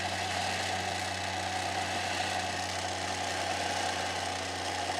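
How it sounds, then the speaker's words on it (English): An electric winch motor runs steadily off the supercapacitors of a Ryobi jump starter, giving a constant mid-pitched whine with a humming drone and no break in level. "Instead, I'm gonna run the winch."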